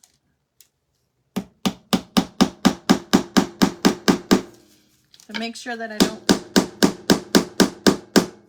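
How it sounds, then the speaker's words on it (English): Rapid, evenly spaced hammer blows striking a wooden gingerbread Christmas craft piece, loud and close, in two long runs separated by a short spoken pause. "You're holding the hammer too high up."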